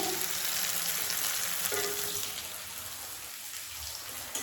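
Spicy chicken fries in a pan with a steady, dense sizzle that continues throughout, with a few faint stirring knocks underneath.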